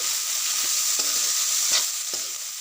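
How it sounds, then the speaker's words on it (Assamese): Potatoes and broccoli sizzle steadily in a frying pan, with a few quick spatula strokes scraping through the hiss, no speech. "অকণমান সময় মই লৰাই দিলোঁ, ভাজি ল'লোঁ"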